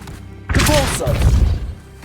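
A Depulso spell cast in Hogwarts Legacy bursts out suddenly as a loud, forceful whoosh with heavy low thuds, then rumbles on for about a second and a half before fading.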